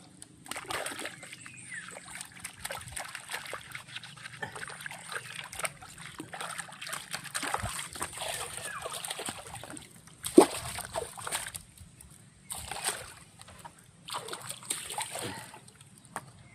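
Water splashing and trickling as something is washed by hand, irregular close sloshes and dribbles with a few sharper splashes and brief pauses, over faint background noise.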